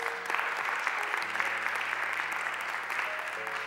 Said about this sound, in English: Let's give God a hand clap of praise one more time.